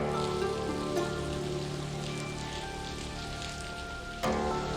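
Steady rain falls late at night on a temple in Taiwan, a dense even hiss of drops spattering on hard surfaces, with no voices over it.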